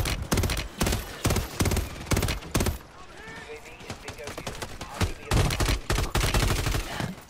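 Rapid, loud gunfire fills the battle royale shooter Warzone, with rhythmic automatic bursts at close range, a brief lull in the middle, then more sustained firing. Voices talk faintly under the shooting.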